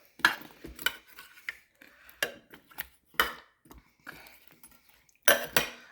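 A spoon scrapes and clinks against a pot of Hungarian goulash with paprika and potatoes, giving a series of irregular close clanks and scrapes with quiet pauses between them.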